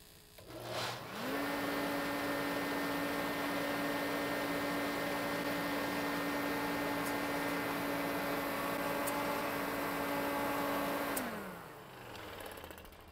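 A kerosene torpedo heater starts up and runs with a loud, steady motor and fan drone carrying a constant tone, then spins down at the end; it runs alone with no flame sound.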